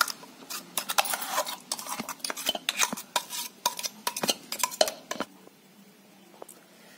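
Ground spice mixture stirred into soaked raw mango pieces for an instant mango pickle, with a spoon scraping and clinking against a metal vessel in quick irregular strokes that fade to quiet near the end.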